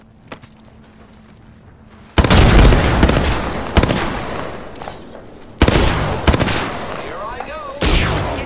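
A frag grenade explosion and gunfire in the Apex Legends video game, heard as three loud, heavy blasts with rattling bursts of gunfire between them, close and dominant.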